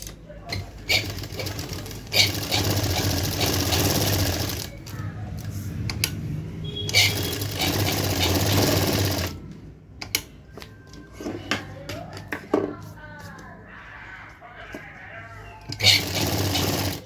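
Sewing machine basting blouse fabric in bursts of rapid needle stitching, interrupted by pauses and clicks, with bleating-like whirring and room noise between the runs.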